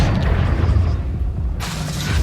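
A heavy, deep boom from the Confringo blasting spell in Hogwarts Legacy, a loud low rumbling explosion that fades, then a sharper crackling burst near the end.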